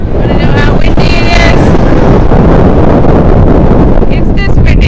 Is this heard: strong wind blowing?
yes